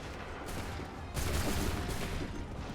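Musket volley fire in the video game Assassin's Creed III, a dense burst of overlapping gunshots crackling as one sustained roar, growing louder halfway through.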